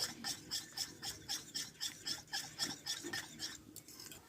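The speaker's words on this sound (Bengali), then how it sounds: "এখানে এক চিমটি লবণ দিয়ে দেব দিয়ে ডিমটা ভালো করে আমি ফেটিয়ে নেব" Eggs with a pinch of salt are beaten by hand, close up, in a quick, even rhythm of about fifteen scraping strokes that slow slightly near the end, with no voices.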